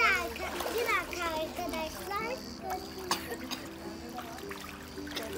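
Children swim and splash in an outdoor pool in Bodrum, with light watery splashes and trickles close by while kids and an adult talk over them.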